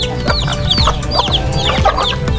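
Several native chickens cluck steadily and close by in a poultry house, overlapping calls in a busy, continuous barnyard chorus with no talking.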